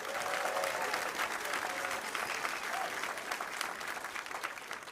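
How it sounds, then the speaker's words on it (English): Dense, sustained applause from a large comedy club audience, loud and steady throughout with a few faint whoops mixed in. "now let's clap it up for all the vets one time"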